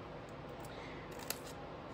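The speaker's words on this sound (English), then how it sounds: "We're just gonna trim each corner to make our little tabs." Scissors trim the corners of a lid to form small tabs, making faint snips that end in one short, crisp cut partway through, with no speech.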